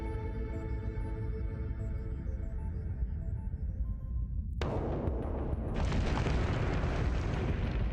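A deep rumbling foreshock in the sci-fi game Star Shift Rebellion rolls on as a steady low roar. Midway it swells into a harsh, noisy burst that keeps growing louder to the end, with no voices.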